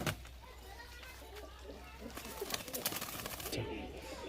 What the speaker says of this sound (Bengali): এটা রাজস্থানী পায়রা